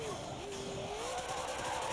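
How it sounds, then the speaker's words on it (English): A car engine whines and sweeps in pitch while drifting in Forza Motorsport 7, a continuous, fairly quiet racing-game tone with the note rising and falling. "this car sounds pretty good"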